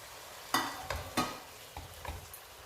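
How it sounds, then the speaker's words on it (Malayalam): A spiced mixture with mint and coriander is stirred in a pan: a few distinct scraping strokes of the spoon, two strong ones early and fainter ones after, over a soft background sizzle. "ഇനി നന്നായി ഒന്ന് ഇളക്കി കൊടുക്കട്ടോ."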